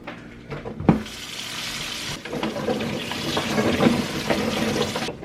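Running tap water splashes steadily into a sink, a continuous rushing hiss with clatter as whole green beans are rinsed beneath it, fairly close.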